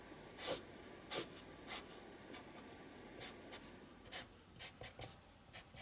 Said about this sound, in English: I've just grabbed the chisel tip and I've just literally just done some lines across the page